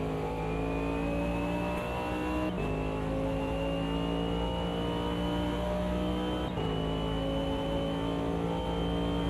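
A race car engine in a racing sim video game drones steadily at high revs, its harmonic whine holding nearly level with two brief dips around gear shifts, loud and continuous with no talk.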